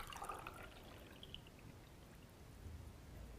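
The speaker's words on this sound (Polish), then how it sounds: "teraz przylejemy jeszcze do ostatniej szklanki." Water poured into the last of several drinking glasses during a simple physics demonstration, a faint, short trickling splash in the opening half second, fading into a quiet background.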